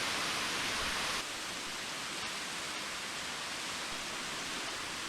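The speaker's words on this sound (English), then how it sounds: "Winter Falls is pretty cool" Winter Falls pours down on a trail, throwing off heavy mist in a loud, constant broadband roar of rushing water that stays steady throughout with no voices.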